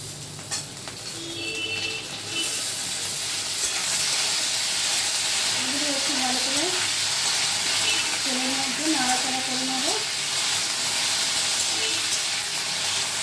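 Steady loud sizzling of taro and potatoes frying in oil fills the clip, with a voice speaking softly beneath the hiss partway through.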